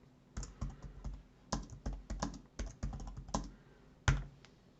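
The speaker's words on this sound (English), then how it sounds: "click the group name field and begin typing the name of your group" Keys clacking on a computer keyboard in uneven clusters of quick taps, close and crisp, with a heavier final keystroke and nothing else.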